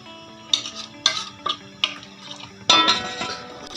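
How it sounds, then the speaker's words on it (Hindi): Pieces of marinated chicken for Lahori chargha set into a large metal pan, giving a series of sharp clinks and scrapes spaced about half a second apart, close and clear with no talking. "उसके अंदर हम इस तरह से ये सारा का सारा चिकन रख देंगे ऐसे।"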